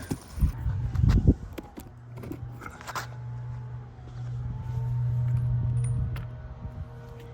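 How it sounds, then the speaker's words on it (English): A car passes along a road, its steady engine hum swelling and then fading over several seconds, after a few scraping clicks and knocks close by. "Get out of the way because we got a car coming."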